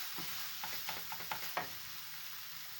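Minced meat seasoned with salt and black pepper being turned in a pan, a handful of soft scraping stirs over a steady frying hiss, close and fairly quiet.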